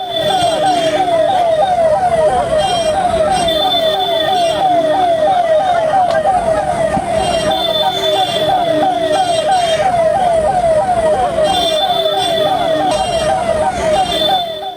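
Ambulance sirens wail with a fast, repeating warble at a nighttime accident scene where more than half a dozen ambulances arrive, loud and continuous with background commotion underneath.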